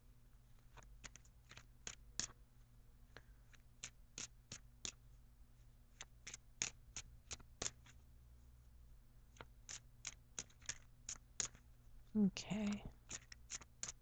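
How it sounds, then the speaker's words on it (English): Tarot cards shuffled in a run of crisp, rapid riffles and taps, close and fairly quiet, with a brief spoken word near the end. "let me shuffle for your outcome card"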